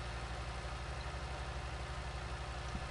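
A tractor engine idles steadily in a farming video game, a low continuous rumble with an even throb that stays constant throughout.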